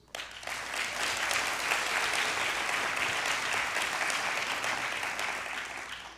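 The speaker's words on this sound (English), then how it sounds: "Another round of applause for our fantastic faculty members." Full, sustained applause from a large audience at a dental school pinning ceremony, swelling quickly and holding steady before tapering slightly at the end.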